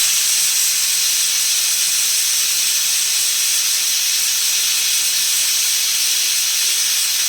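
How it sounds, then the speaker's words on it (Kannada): Steady pressure cooker whistle while avarekalu (field beans) cook, a loud continuous hiss of escaping steam that holds unbroken for the whole stretch with no talk over it. "ಒಂದೆರಡು ವಿಸಿಲ್ ಹಾಕಿಸ್ಕೊಂಡ್ರೆ ಪರ್ಫೆಕ್ಟಾಗಿ ರೆಡಿಯಾಗೋಗುತ್ತೆ."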